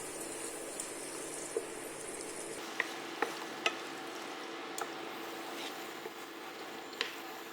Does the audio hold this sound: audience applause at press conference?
no